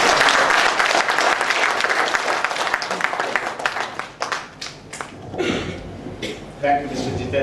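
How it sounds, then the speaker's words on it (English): Audience applause at a professional surveyors' seminar: dense clapping that fades after a few seconds, with some chuckling and a voice starting to speak toward the end. "So please give a big round of applause."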